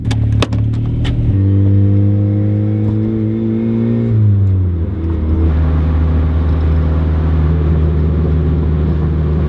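A car engine rises steadily in pitch as the car accelerates while driving, then drops and settles into a lower, steady drone. It is loud, close and continuous, with no talking.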